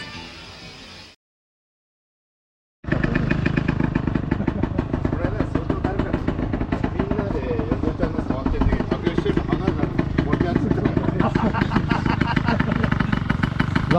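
A small Yamaha Passol moped engine runs steadily at close range, a buzzing idle with rapid rhythmic ticking, after a brief silence.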